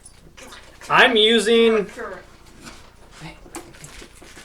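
A greyhound whimpers in a home kitchen during baking, one loud, wavering whine of about a second, close by, with people talking before and after.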